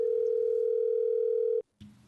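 A steady telephone dial tone plays clearly for about a second and a half while a call goes out to a nominee. It cuts off abruptly, there is a brief silence, and then a faint line noise or click follows.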